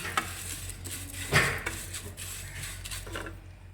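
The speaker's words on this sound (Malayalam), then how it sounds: "ഞാനിത് മുഴുവനായിട്ട് വറുത്തെടുക്കട്ടെ" Food is dry-roasted in a pan. Quiet scraping and stirring strokes sound against the metal, with a soft low sizzle underneath, close and faint, and nobody speaks.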